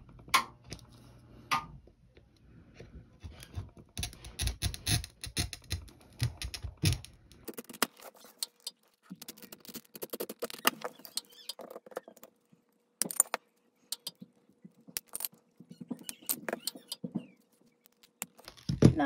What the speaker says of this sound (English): Now I use the sticker as a guideline to cut my lines